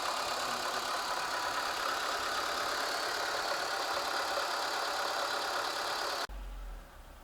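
A Renault Mégane Classic engine running at a steady idle, a loud continuous hum close by that cuts off abruptly near the end into a brief low rumble.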